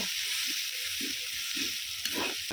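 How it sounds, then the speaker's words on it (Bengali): Masala with turmeric powder is sautéed for chicken curry, a constant frying hiss under a slow, regular scrape of the spatula against the pan about every half second, with no talking. "আর দিচ্ছি হলুদ গুঁড়ো খুব ভালো করে আমি আবারও কষিয়ে নেব"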